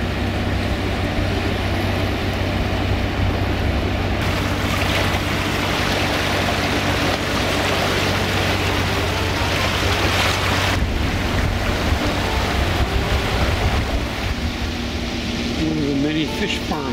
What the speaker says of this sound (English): There's all sorts of white water ahead.